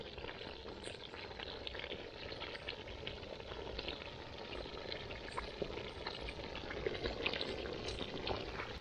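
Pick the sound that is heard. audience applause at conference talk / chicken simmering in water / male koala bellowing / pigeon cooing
chicken simmering in water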